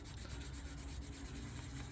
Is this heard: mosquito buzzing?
no